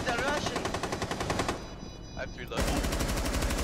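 Rapid automatic gunfire in the Rainbow Six shooter game: dense, fast bursts of shots, a brief pause about a second long with a voice speaking, then the rapid firing resumes loudly.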